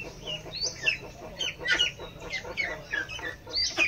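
Chickens on a farm cluck in short, uneven bursts close by, several birds overlapping in a busy, chattering run with no talking over them.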